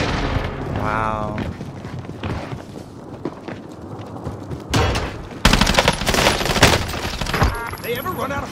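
Gunfire in Warzone on Rebirth Island crackles in a long chaotic mix of shots and bursts, building to a louder, denser stretch of sustained fire near the end.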